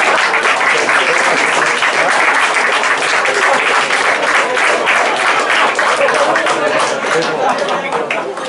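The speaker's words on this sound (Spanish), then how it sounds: "aplausos." A lecture audience breaks into sustained, loud applause mixed with crowd chatter that continues through the whole stretch and tapers slightly at the end.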